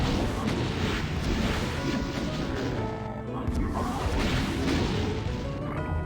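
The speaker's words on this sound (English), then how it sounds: "But I will use the rockets against these Mancubi." Rockets fire at Mancubi in the classic shooter Doom II, with booming blasts and crashing explosions packed densely and continuously throughout, loud and close, layered over the game's busy soundscape.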